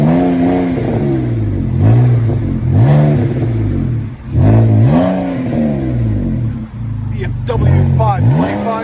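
A BMW 525i engine with a straight-pipe exhaust revs up and settles back in repeated bursts, its throaty, rumbling exhaust loud and close, with a voice talking now and then.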